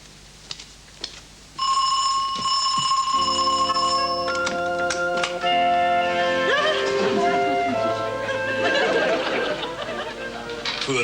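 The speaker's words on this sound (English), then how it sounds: "I bet you're wondering how she managed to press the doorbell, Jimmy." A doorbell chimes in a loud, lively comic party scene: after a brief quiet start a sustained ringing tone with bright harmonics rings out and carries on under chatter, music and voices for most of the scene.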